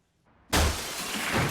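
Breakaway fake glass shatters in a fight scene: after a faint lead-in, a sudden loud, bright crash breaks out and continues as a dense spray of tinkling debris, with no voices.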